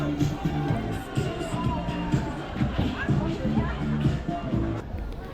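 A crowd of tourists in a small town near Belize, a steady murmur of many voices and bustle with no single voice standing out, at even loudness throughout.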